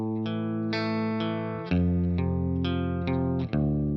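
Electric guitar with distortion chugs through the first half of a riff, a rhythmic run of picked power chords that shifts lower and heavier midway, solo and up close.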